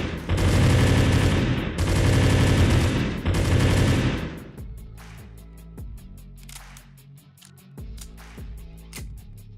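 P90 submachine gun fire in the video game 7 Days to Die, with three loud sustained automatic bursts followed by a few sharper isolated shots and fading echoes.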